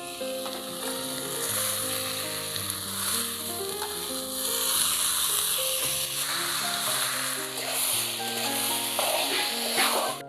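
Washed rice and lentils hit a pan of fried spice paste for chicken bhuna khichuri and set off a steady, loud sizzle that lasts the whole time, with music playing underneath.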